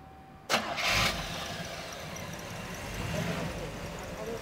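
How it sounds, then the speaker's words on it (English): A 1962 Chevrolet Corvette convertible with its numbers-matching 327 V8 cranks briefly, catches with a loud burst, then settles into a steady, close, even idle. "I'm gonna fire it up, take it around the block now."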